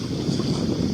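Steady wind blows outdoors at night, a continuous low rushing roar with microphone buffeting that holds loud and even throughout, with no voices.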